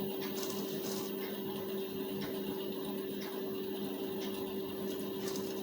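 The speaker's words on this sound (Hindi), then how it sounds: "आस्तीन के बीचों बीच कुटका से मिलाकर सिलाई चलाएंगे" A sewing machine runs a continuous stitch along the sleeve seam of a lined blouse, a steady close mechanical hum with a faint rhythmic ticking over it, alone throughout.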